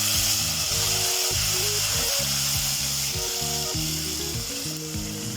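Ginger garlic paste frying in oil in a pan while cooking an aloo and chole curry, a steady loud sizzle that continues throughout, with no talking.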